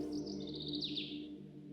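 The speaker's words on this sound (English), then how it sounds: "the birds had suddenly started chirping" Several birds chirp and tweet in high, bright calls at dawn, a brief overlapping chorus over a steady low background hum.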